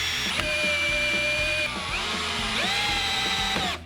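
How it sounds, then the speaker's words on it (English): A power drill pre-drills a hole through a timber shelf and mounting rail: a steady close motor whine that dips as the bit bites, then spins back up, ending with a short drop as it stops. "Screw your shelf and mounting rail together, but make sure that you pre-drill,"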